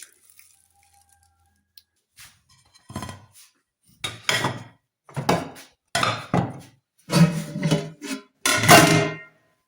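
Washed dishes, pots and pans are handled in a home kitchen, giving a series of close clattering knocks and scrapes in irregular bursts, growing busier toward the end.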